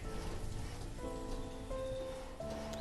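Rain on a sleepy Sunday: a steady soft patter and hiss of rain runs throughout, while sustained tonal notes enter partway and hold over it.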